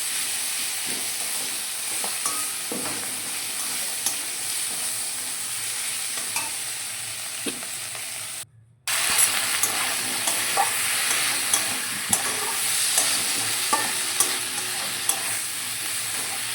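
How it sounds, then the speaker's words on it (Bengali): Ginger, onion, garlic and cumin powder sizzle steadily in hot oil while being stirred, with scraping clicks over the frying hiss and one brief drop-out partway through, no talking. "এবার এটাকে একটু ভাজা ভাজা করবো"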